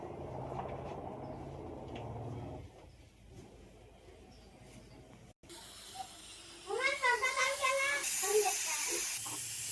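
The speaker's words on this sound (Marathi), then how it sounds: "1 शिट्टी झाली मस्त प्रेशर कुकरची" A pressure cooker holding stuffed brinjal releases steam through its whistle in a loud, rushing hiss lasting a couple of seconds, which then drops away, followed later by quieter, warbling tonal sounds.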